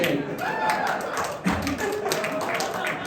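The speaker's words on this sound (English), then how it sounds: "I don't know if you're clapping for me or against Shea" Comedy club audience clapping in a small live room, a dense patter of hand claps with a soft thump, a voice talking over it throughout.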